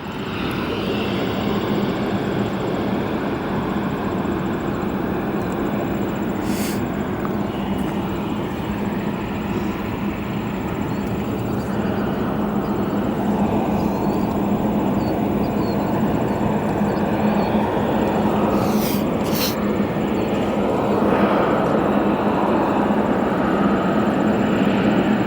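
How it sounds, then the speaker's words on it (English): A Lufthansa Airbus A350 arriving at O'Hare International Airport after a flight from Munich, heard as a loud, continuous jet engine roar and rumble that stays steady throughout and swells slightly toward the end. "That there on your screen, our Lufthansa arrival. This A350 arriving from Munich after a 9-hour flight into O'Hare."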